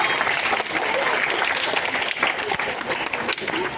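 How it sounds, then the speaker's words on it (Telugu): A festive children's carnival audience claps loudly and steadily, a dense wash of applause that holds at full strength throughout. "చప్పట్లు కొడదామా గట్టిగా"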